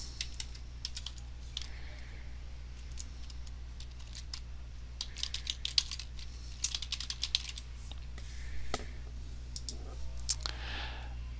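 Keys clatter on a computer keyboard in quick irregular runs of typing, close but quiet over a steady low electrical hum.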